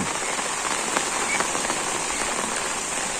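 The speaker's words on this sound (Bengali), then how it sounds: "তো সকালে উঠে দেখি বৃষ্টি, শুধু বৃষ্টি।" Steady rain falls on surfaces in a wetland village, a constant hiss with scattered close drops pattering, moderately quiet and uninterrupted.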